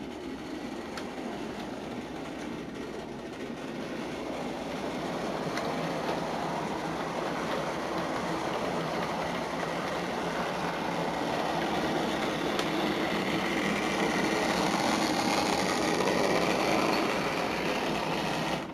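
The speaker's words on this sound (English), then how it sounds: "here's the loco in question" A model railway locomotive built from a Deltic kit runs steadily on a layout, producing a continuous mechanical whirr and rumble that slowly grows louder and brighter as it approaches, with no talk.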